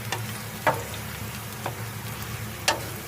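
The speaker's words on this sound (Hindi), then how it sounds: "चम्मच चलाते रहना है आपने 5 मिनट तक और इस तरह की आपने इसे फ्राई करना है" Onions fry in a pan with a soft, steady sizzle, punctuated by three or four distinct clicks of a spoon stirring against the metal, fairly quiet and close.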